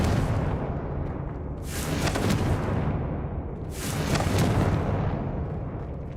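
Two heavy, roaring blasts from the Confringo fire spell in Hogwarts Legacy, each swelling into a dense rumble and fading, over a constant low ambient hum.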